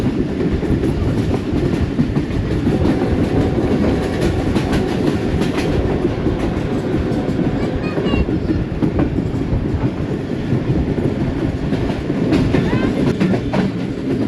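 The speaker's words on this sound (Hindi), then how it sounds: "तो दोस्तों आस्ता आस्ता हमारी ट्रेन रावलपिंडी शहर में दाखिल हो रही है" A Subak Raftar railcar rolls along the tracks toward Rawalpindi near Chaklala station on the Gujrat to Rawalpindi run. Its wheels clatter in a steady rhythm over a loud, continuous rumble heard from inside the coach.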